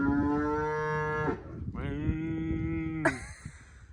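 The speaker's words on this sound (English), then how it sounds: "I love his moos. They're so cute." A seven-month-old highland bull on a homestead gives two long, loud moos, the second ending in a higher rising call, close by with little else around.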